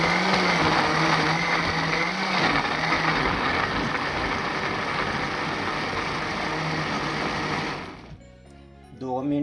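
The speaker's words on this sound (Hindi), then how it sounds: "अब मैं इसको पहले ग्राइंड करूँगा, पीसूँगा" A mixer grinder running on chicken masala ingredients, a loud, steady high-pitched motor whine with a coarse grinding texture that winds down and stops near the end, close up, with no talking.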